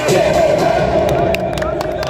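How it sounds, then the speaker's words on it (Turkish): A large crowd cheers and applauds at a CHP political rally for party leader Kılıçdaroğlu in Dursunbey, loud and close, with shouts and whoops rising over the continuous roar. "Milletçe alkışlıyoruz"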